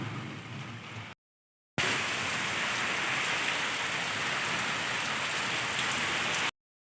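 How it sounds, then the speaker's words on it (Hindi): Steady rain pours down in a constant, even hiss, briefly cut off by a short gap of silence before resuming at full strength with no voices. "बारिश हो रहा है"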